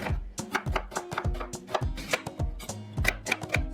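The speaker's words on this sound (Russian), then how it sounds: "средними кубиками порежу репчатый лук" Rapid knife chopping of onion into medium dice on a cutting board, steady sharp thuds repeating several times a second, close and clear with no talking.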